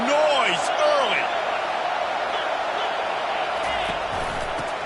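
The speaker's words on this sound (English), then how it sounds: "This crowd bringing the energy and noise early" Football stadium crowd at a Florida State game roars and cheers steadily and loudly throughout, with whoops and shouts rising above the dense wash of noise and a commentator's voice talking over it.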